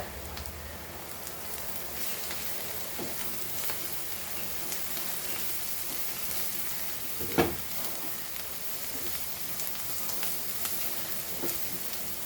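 Frying sizzle from a pan of Goan kelphulachi bhaji, a steady soft crackle throughout with a single brief clatter of stirring partway, no voices.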